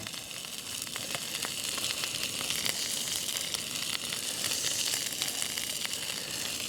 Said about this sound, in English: Because I want to toast them quickly in the pan.